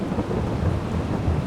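Steady rain and a low rumble of thunder in the farming video game Farming Simulator 2022, a dense continuous wash with no talking.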